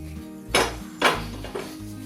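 A metal cooking pot is handled while cooked lentils for Kerala parippu pradhaman are moved into a heated pot, giving three sharp, close clanks about half a second apart in an otherwise quiet kitchen.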